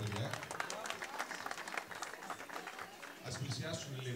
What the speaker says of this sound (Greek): Ένα χειροκρότημα, συγχαρητήρια και στα παιδιά.